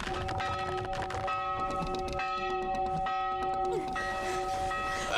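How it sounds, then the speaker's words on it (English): A bell clangs insistently with a continuous ringing tone, rapid strikes layered over a sustained metallic ring, loud and steady throughout. "Comes with its own alarm bell."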